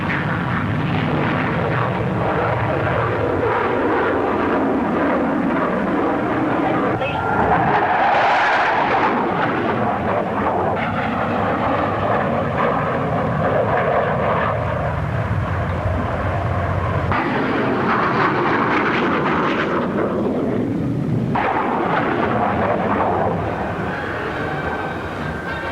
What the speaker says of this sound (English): The P-1067 is the latest production fighter for the RAF.